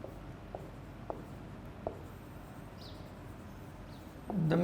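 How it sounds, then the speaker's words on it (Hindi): A teacher writing out an example during a lecture, with several separate short scratchy strokes spaced a second or so apart, faint and close, ending in a louder rustle, with no talk. "वो आप बच्चों के लिए मैं लिख देता हूँ"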